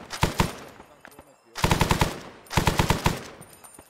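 Automatic gunfire in the military shooter ArmA 3, three loud bursts of rapid shots with pauses between them, close and sharp over faint background noise.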